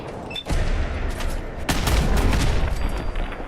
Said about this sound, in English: I don't want to shoot through my own troops